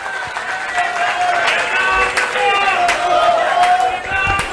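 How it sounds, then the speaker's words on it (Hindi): A large crowd at an outdoor public rally in the Gandhi Nagar market claps loudly and steadily for several seconds, with scattered whistles and cheers rising over the dense applause. "मेरे आप सभी भाई बहनों के लिए जोरदार तालियां"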